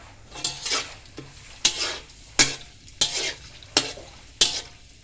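Purple sweet potato crackers frying in deep oil, with a sizzling hiss and a series of sharp scraping or clinking strokes from a utensil at roughly regular intervals, close up.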